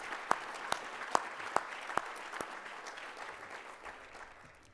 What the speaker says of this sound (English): Let's give Mel Fink a round of applause